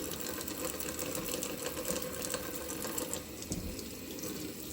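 Sprouting sweet potatoes are rinsed one at a time in water gone slippery, giving a steady close splashing and running-water wash with small rubbing swishes, no voices.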